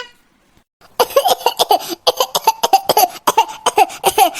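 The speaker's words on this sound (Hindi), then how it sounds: "बहुत है खांसी आवत है।" After a brief silence, a long fit of harsh, rapid coughing bursts out close by, repeated hacks in an uneven rhythm that almost sound like laughter.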